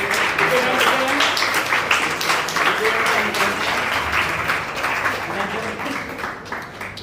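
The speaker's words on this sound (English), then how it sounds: "A huge round of applause." A book launch audience claps steadily for a young author honoring a guest, a dense run of applause that slowly tapers near the end, with some voices mixed in beneath it.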